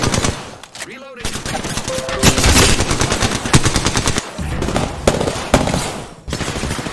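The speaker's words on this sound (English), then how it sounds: "All I have is a wingman with a skull piercer." Rapid automatic gunfire from the Apex Legends battle royale game in a duos match, loud and sustained in dense bursts with brief gaps, mixed with game effects and some faint voice.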